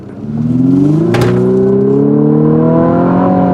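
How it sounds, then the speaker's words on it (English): Four-cylinder engine of a 2023 Infiniti QX50 Sport on run-flat tires accelerating, a loud, close, rising drone that climbs steadily in pitch, with a brief whooshing burst early on. "This engine's got pretty decent power for a 4-cylinder,"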